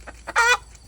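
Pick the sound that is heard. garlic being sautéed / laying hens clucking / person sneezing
laying hens clucking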